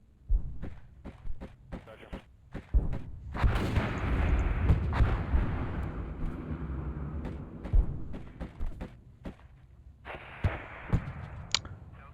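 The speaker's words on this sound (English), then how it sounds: "That Soviet grenade launcher is really good for suppressing and dislodging infantry units." A Soviet grenade launcher fires in the WARNO strategy game: sharp, scattered shots, then a loud, sustained rumbling barrage of blasts that fades back to separate bangs and thuds.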